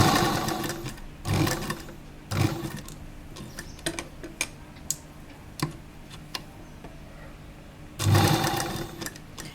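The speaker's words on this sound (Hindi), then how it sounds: "गोलाई पे आप थोड़ी धीरे धीरे मशीन को चलाएं।" An electric sewing machine stitches a kurta in several short bursts, a close rattling whir with quieter ticks and handling noises in the pauses between runs.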